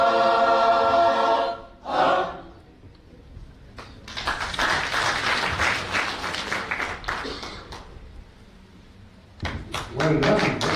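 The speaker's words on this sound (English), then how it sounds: "Well done, well done. I better clap." An audience at a church general assembly session claps for several seconds, a dense, steady burst of applause bracketed by a speaker's voice before and after.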